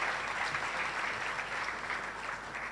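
An audience claps steadily at a school graduation ceremony, a dense wash of applause from a large crowd that stays even and fairly distant throughout.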